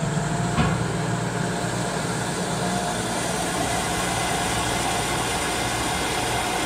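A fuel centrifuge spinning up to process diesel, a loud, steady broadband whir and hum that holds throughout, with a brief click near the start and no talking.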